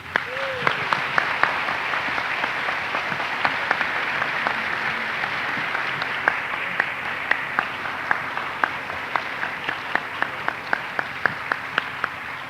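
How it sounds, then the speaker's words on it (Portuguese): An audience applauds a team at an event, sustained clapping from a large crowd with sharp individual claps standing out, steady and close throughout. "Eu queria pedir uma salva de palmas para essa equipe."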